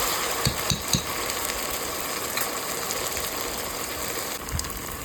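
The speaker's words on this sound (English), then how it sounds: "you can see that oil is bubbling now." Ginger garlic masala paste frying in hot oil for chicken biryani, a steady soft sizzle and bubbling with a few faint clinks of stirring.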